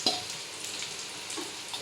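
Country chicken (naatu kozhi) fries in a pan while it is stirred, giving a close, steady sizzle with a few soft scraping stirs and no voices.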